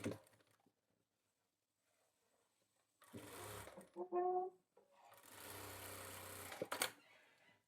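A sewing machine stitches a men's kurta in two close bursts of rapid, rattling stitching separated by a short pause, after a quiet stretch at the start.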